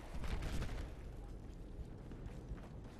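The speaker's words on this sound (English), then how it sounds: "Enough of that explosion. Probably mortar." Mortar explosion in Battlefield 4, a heavy low rumbling blast with dense broadband roar that swells early and lingers as a sustained loud rumble across the whole stretch.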